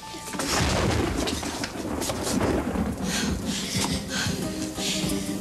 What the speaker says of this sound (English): It's just a little bit of lightning.